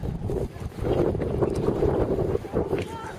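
Wind blowing out by a lake, a steady rumbling gust across the microphone with a low buffeting roar, while a person speaks over it.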